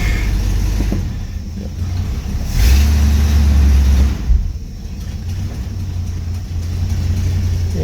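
Car driving along a road with a steady low engine rumble, swelling briefly louder for a couple of seconds as it slows under braking, then settling back to a constant drone; no voices.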